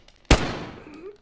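A single loud sniper rifle shot in DayZ, a sharp close crack followed by a long fading rumble and echo.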